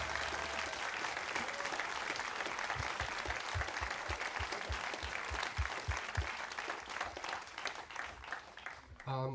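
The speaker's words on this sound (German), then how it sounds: "Bitte einen Applaus für euch und den Christian Salmhofer." A concert audience at an open-air classical-meets-jazz show applauds warmly, dense clapping that builds into rhythmic unison claps midway before thinning out, with some voices mixed in.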